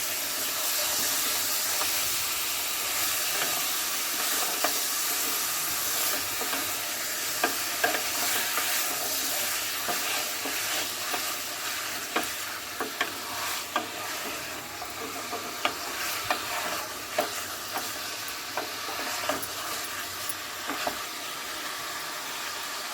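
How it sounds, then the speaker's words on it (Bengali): Beef sautéed in hot oil: a loud, dense sizzle and hiss holds steady throughout, with scattered sharp clicks and scrapes from stirring close by. "তো মাংসগুলো দেওয়ার পর আবার আমি তেলের মধ্যে মাংসগুলো কষাবো।"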